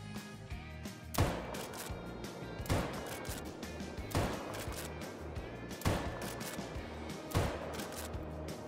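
Five sharp, fairly loud rifle shots from a .44 lever-action rifle fired at alligators during a gator hunt, spaced about one and a half seconds apart over a steady outdoor background.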